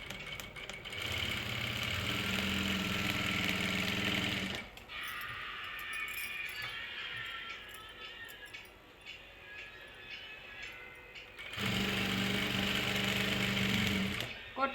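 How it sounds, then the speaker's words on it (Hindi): A sewing machine stitching gota patti trim onto a lehenga seam runs in a steady loud whir, stops for a quieter stretch where someone speaks, then starts up again. "इस तरह से बिल्कुल आपको आराम से सिलाई लगानी है और ज्वाइंट के ऊपर ही गोटा पट्टी को रखेंगे"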